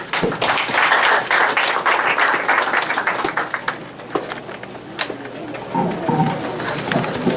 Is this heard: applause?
yes